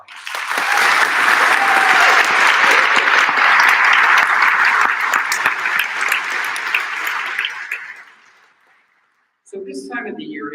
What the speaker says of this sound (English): So if you would, some applause for my colleagues.